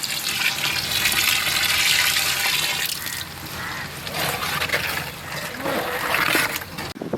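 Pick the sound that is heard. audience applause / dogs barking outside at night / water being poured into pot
water being poured into pot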